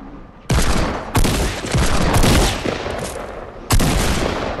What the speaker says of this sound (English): Have a shotgun. I'm shooting.